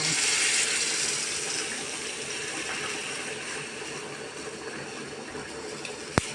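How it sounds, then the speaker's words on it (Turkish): Water poured into a pot over toasted bulgur pilaf, a steady rushing pour that carries evenly throughout and ends with a single sharp clink near the close. "Üzerine çıkana kadar su veriyorum."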